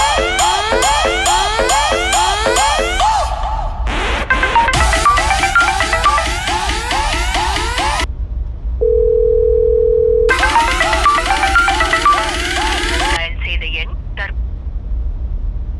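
A phone call being placed: repeated electronic ringing and dialing tones, then a steady dial tone and more ringing, loud and continuous with no talk.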